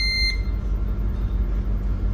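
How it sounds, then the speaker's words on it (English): A cargo ship's steering console on autopilot gives one short, sharp electronic beep, followed by a steady low rumble of engine noise on the bridge. "The reason it's beeping at us right now is because we're on autopilot."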